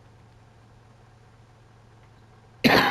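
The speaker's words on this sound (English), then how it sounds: "sometimes coughs sneak up on me" After a near-silent stretch with low hum, a single loud, close cough bursts out at the very end from someone playing a truck-driving game.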